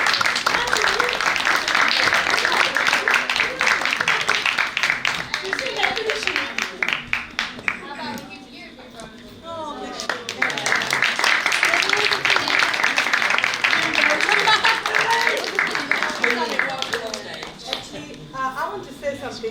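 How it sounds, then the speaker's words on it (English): Sustained applause from a live audience at an arts and drama event, dense and steady clapping that fills most of the clip, dipping briefly midway before swelling again at full strength. "So I think we should give these guys another big round of applause for doing that."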